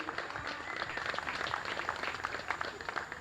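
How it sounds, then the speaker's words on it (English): Spectators applaud at a professional tennis challenge tournament, with a moderate, steady patter of clapping heard from some distance throughout the short stretch. "One more round of applause for Jan Choinski"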